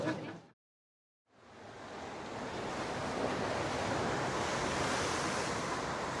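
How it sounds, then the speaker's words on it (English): Steady rushing surf of rough ocean waves on Gozo builds after a short gap of silence, a broad continuous wash that stays loud and unbroken. "the sound of the waves, which does seem to be getting a bit rough again now"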